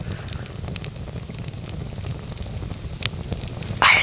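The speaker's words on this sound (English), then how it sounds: "I think maybe it would work if I do an ASMR campfire." A campfire crackles steadily close to the ear, with sharp pops and snaps scattered over a soft low rumble of burning wood, and a brief louder flare of hiss near the end.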